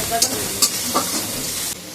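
Chopped onions and chillies fry in a pan, sizzling loudly up close while a utensil scrapes and stirs in quick strokes, with the sizzle dropping off abruptly near the end.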